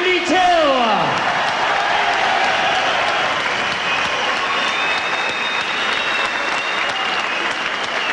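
Boxing crowd applauding the losing fighter Andy Till at his home event, a loud sustained wash of clapping with scattered whistles and cheers, an announcer's voice briefly audible at the start.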